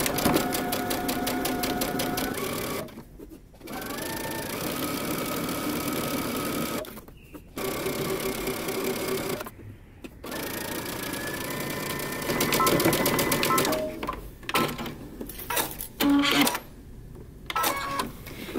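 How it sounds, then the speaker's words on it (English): A sewing machine stitches the side seams of wide-leg pants in long steady runs, a close rhythmic mechanical whir broken by several short pauses, with no talking. "we're going to stitch all the way down the sides using 5/8 of an inch seam allowance"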